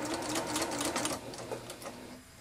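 A sewing machine hums and rattles in a continuous, close, rhythmic stitch while joining two scrub cap fabric pieces, with no talk over it.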